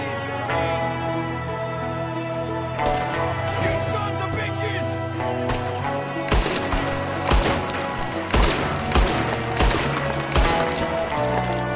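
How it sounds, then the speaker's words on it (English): Gunfire in the video game Red Dead Redemption 2 rings out as a string of sharp, close shots spread across the second half. A dense, sustained musical score plays underneath, and there is no talking. "There's another one shooting from the window."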